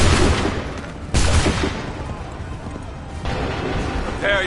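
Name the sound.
musket gunfire volley in Assassin's Creed 3 video game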